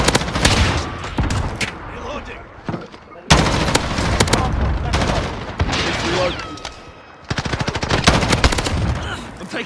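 Dense automatic and single-shot gunfire in a Call of Duty Modern Warfare Hardpoint match on the St Petrograd map, loud and close, in long sustained bursts broken by brief pauses, with other game sounds layered underneath.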